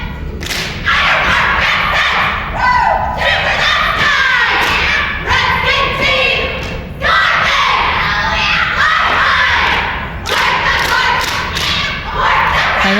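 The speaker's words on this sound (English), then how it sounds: "Now you'll notice with this team you'll hear random yells" A cheerleading squad's loud, scattered yells and shouts ring out during a competitive cheer routine at a 1999 Class C and D finals, with thuds of stunts and crowd noise continuing throughout.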